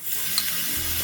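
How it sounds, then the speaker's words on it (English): Tomatoes tipped into a hot pan of garlic and onion in a miniature kitchen, giving a brief, steady sizzle with a soft stir, close and alone. "Now what we want to do is we want to jump in and get those tomatoes in."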